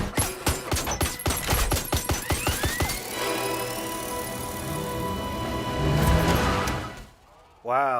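Rapid bursts of gunfire from a No Time to Die (2021) movie scene, a fast volley of loud shots in the first few seconds, then sustained mechanical and engine-like noise and a final sharp sweeping effect.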